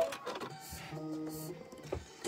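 Domestic sewing machine stitching quilt top pieces together, a steady mechanical whir with a humming tone that runs about half a second, framed by brief handling clicks, close and fairly quiet.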